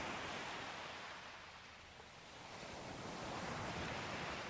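Continuous ocean surf washing onto a beach, a steady broad rush of waves that swells and eases slightly, with no voices.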